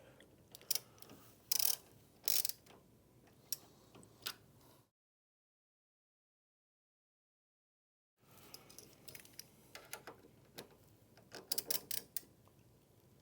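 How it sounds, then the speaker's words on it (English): An 1/8 inch Allen key tightens the bearing set screws on an ATLAS buffer brush, giving faint close metallic ticks and clicks in small clusters, broken by a stretch of total silence. "the last piece of hardware we will need to tighten will need to be the set screws on the bearing"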